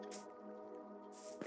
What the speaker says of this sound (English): Got some water now.